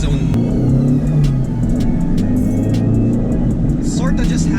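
A Kaicene Honor S car drives along with a steady low engine rumble and road noise under the cabin hum, and a brief rising whoosh near the end; people talk over it.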